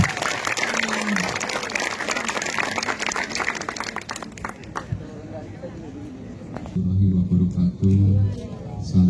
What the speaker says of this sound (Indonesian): kita sambut dengan tepuk tangan yang lebih meriah lagi